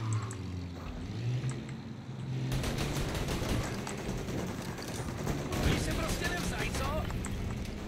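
Gunfire in the Mafia Definitive Edition video game, set in 1938, crackles as rapid bursts and repeated shots over a continuous dense background of game action, preceded by a lower rumble.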